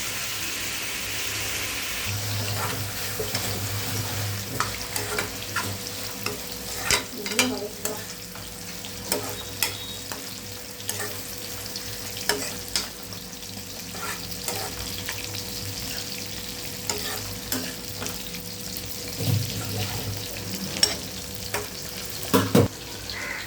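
Squid (kadamba) frying in a pan with a steady sizzle, plus scattered clicks and scrapes of stirring, close and moderately loud, with no speech.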